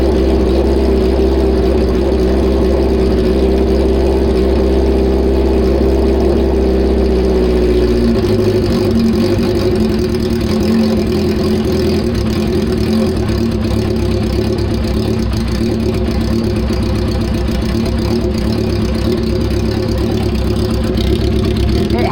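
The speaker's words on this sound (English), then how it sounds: "It has a tiny little misfire because the idle mixture screws are a little bit hard to adjust." Motorcycle engine idling steadily with a slight misfire from hard-to-adjust idle mixture screws; a low, continuous rumble that drops to a lower, slightly uneven idle partway through, alone without talk.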